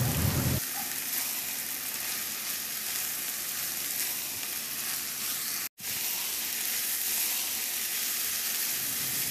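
Baguio beans, cabbage and onion leeks sizzle steadily as they are stir-fried in a pan, a dense continuous frying hiss with a brief break partway through.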